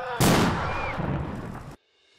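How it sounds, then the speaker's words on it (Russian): One loud, booming shot from a World War II-era artillery gun fired at a memorial ceremony, with a sharp onset and a rolling, rumbling tail that cuts off abruptly after about a second and a half. "произвести артиллерийский выстрел из орудий времен Великой Отечественной войны"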